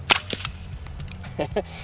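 A suppressed VSS Vintorez rifle fires into a dirt berm, giving sharp muffled cracks and slaps of rounds striking the dirt, several close shots in quick succession.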